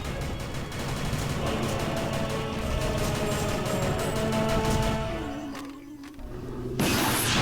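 Gunfire bursts in the video game TimeSplitters Future Perfect, rapid repeated shots layered over game music and effects, dense and loud before thinning out, then a sharp blast near the end.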